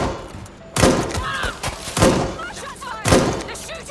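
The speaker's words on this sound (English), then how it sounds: "They're shooting!" Gunfire in the video game Watch Dogs Legion, heard as three heavy, punchy shot bursts spaced about a second apart, with a voice speaking between them.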